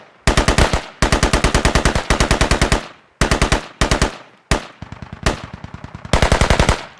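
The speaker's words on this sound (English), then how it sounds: "Good suppression fire as they move up." Loud automatic gunfire in a squad-based shooter game, rapid bursts of closely spaced shots broken by short pauses, up close and with no talking over it.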